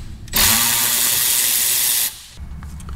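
A pneumatic power tool spins out a brake caliper bolt on a Corvette C5 during a brake pad and rotor job, a loud steady hissing whir lasting under two seconds, then cutting off to quiet shop noise.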